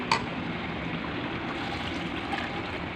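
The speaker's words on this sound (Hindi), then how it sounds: "हम अभी पानी थोड़ा सा और शामिल होगा" Water pours steadily into a pot of chicken yakhni pulao, a continuous close splashing fill that runs the whole stretch with no talking.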